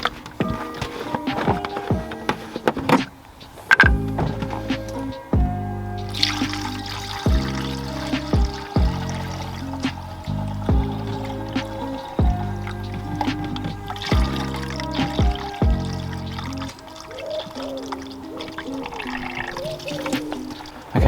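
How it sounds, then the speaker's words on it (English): Coolant poured into the coolant tank of a Mini during a cooling-system refill, with a soft liquid gurgle and splash running through a series of pours amid faint workshop clatter. "So now we're going to fill the coolant and bleed the system"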